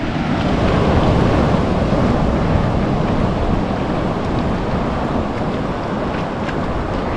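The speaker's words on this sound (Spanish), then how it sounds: "Ya te molesta la brisa." Sea breeze buffeting a fishing boat off El Salvador, a steady loud rushing wind over the microphone mixed with wash of water, continuous with no voices.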